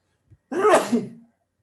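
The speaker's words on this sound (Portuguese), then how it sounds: "Espirrinho matinal." A single sharp sneeze bursts out loud and close after a brief faint intake, in a quiet classroom setting with no talk over it.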